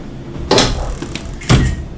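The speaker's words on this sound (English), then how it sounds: "Then close the door." Door of an SCBA decontamination washer closing: two short, solid knocks about a second apart, close and fairly loud against a steady background hum.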